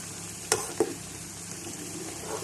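Aloe vera cooking in coconut oil and olive oil gives a soft continuous sizzle, with two sharp pops near the start and another pop near the end.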